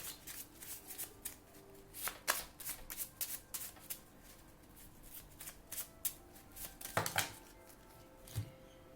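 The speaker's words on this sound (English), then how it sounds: "Let's just pull one or two more cards." A deck of tarot cards is shuffled for a reading, making quick, soft papery riffles and flutters in uneven bursts. Occasional taps and knocks fall between them, and the sound is close and quiet.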